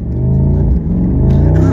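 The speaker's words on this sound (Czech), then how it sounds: "Slyšíte ten výfuk?" A 2023 Mercedes-AMG 63 V8 biturbo exhaust rumbles deep and loud close by, a steady throaty burble with a slight swell in revs partway through.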